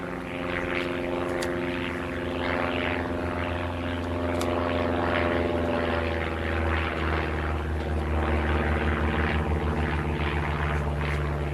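A propeller airplane drones overhead with a steady, throbbing engine hum that swells slightly louder toward the end, continuous and dominant.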